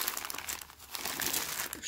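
A plastic packet of jewelry findings and beads is handled up close, giving continuous dense crinkling and rustling with small crackles through the whole moment, and no talk.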